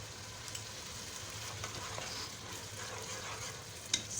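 Goat kidneys sauté with yogurt in a pan, giving a soft, continuous sizzle with faint stirring scrapes and a small clink near the end, heard alone without talk.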